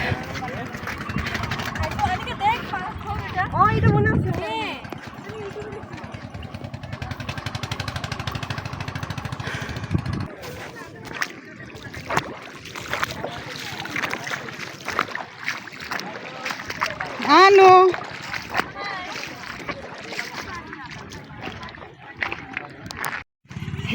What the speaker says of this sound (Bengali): এই ট্রলারের আওয়াজটা শুনলে আমার দেশে চলে যাই মনে